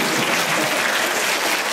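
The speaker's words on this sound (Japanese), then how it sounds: "拍手を" Dense, even applause fills a symposium hall, a loud continuous wash of clapping from the audience with no voices over it.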